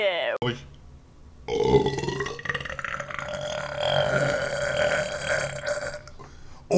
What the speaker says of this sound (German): das war mein längster Rülpser aller Zeiten